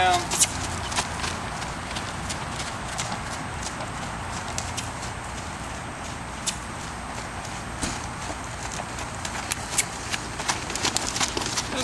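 Hooves of a three-year-old Mustang gelding clop and shuffle as the horse is backed up and moved around, with irregular scraping steps under a person's speech.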